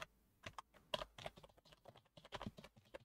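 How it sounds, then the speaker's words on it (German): Someone types a password on a computer keyboard, giving a quick irregular run of close, crisp key clicks with brief pauses and no talk. "dann gebe ich mein Passwort ein"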